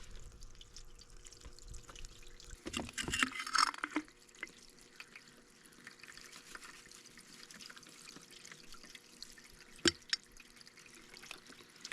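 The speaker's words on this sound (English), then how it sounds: "This fitting here, I'm missing a gasket, so it's leaking." Water leaking from a hose fitting that is missing its gasket during a summer water restock, a faint, close trickle with scattered drips and a couple of sharper splashes, no talking.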